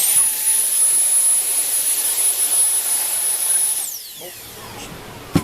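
A 50mm QCZW brushless ducted fan spins up into a loud, piercing high-pitched whine, holds steady close by for several seconds, then spools down with a falling pitch, followed by a brief click.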